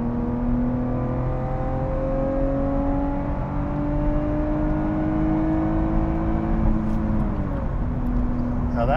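Lotus Evora GT engine revving steadily toward its 7,000 rpm redline on a mountain road, with rising harmonic tones climbing until the fuel cutoff bites abruptly near the end; a loud, continuous in-cabin sound with no talking.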